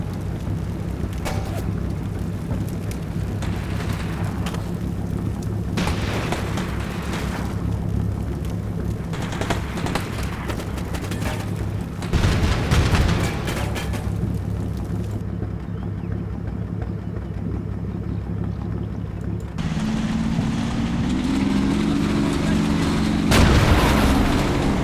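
Gunfire and explosions from the Combat Mission Black Sea war game, distant booms and shots against a steady low engine-like rumble, with a few louder thuds spaced through the passage.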